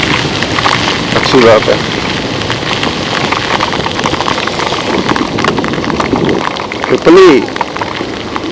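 Steady rain falls in Chandigarh, a continuous dense patter of drops on surfaces that runs the whole time, with a person talking over it.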